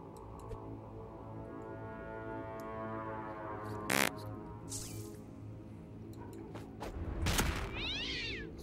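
A cat meows in the video game South Park: The Fractured but Whole, a short rising mew near the end over steady game background sound and scattered clicks.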